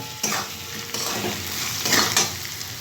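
Turmeric, cumin and coriander powder sizzle in a pan under repeated stirring, with close scraping strokes and a faint clink of utensil on metal.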